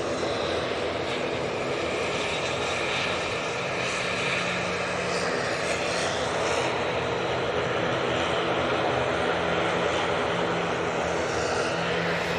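A SunExpress airliner departs Manchester Airport with a steady, moderately loud engine roar that holds at a constant distance throughout, with a few faint tonal whines riding on top.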